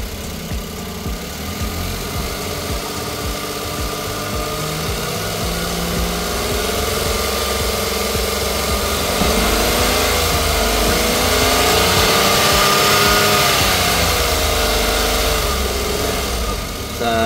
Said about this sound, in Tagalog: So, halika, i-rem natin. Subukan natin ang engine.